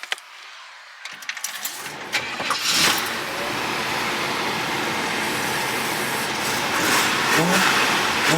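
A 1965 Chevrolet Impala starts after a few clicks and clatters, then its engine catches and runs steadily nearby with a loud, rich idle and a couple of light revs.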